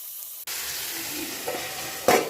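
Chicken pieces with bottle gourd and potatoes land in a hot pan and sizzle steadily, with a brighter burst of frying near the end. A short quiet gap comes before the sizzle starts.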